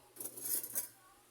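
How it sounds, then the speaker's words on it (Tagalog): Eggs beaten in a bowl with a utensil, giving a short burst of quick clinking strokes, close and moderately loud, lasting about a second with no talk. "Batiin natin itlog."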